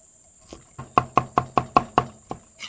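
Knife chopping bird's eye chili on a cutting board, about eight crisp sharp knocks in a quick, fairly even rhythm, close and clear with no talking.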